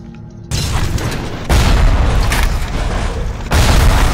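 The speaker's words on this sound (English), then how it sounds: "How about I throw a grenade?" Grenade blasts in BioShock's Fort Frolic level: three heavy, booming explosions hit at roughly one-second intervals, each louder than the rumbling din before it, close and dominant with no talk over them.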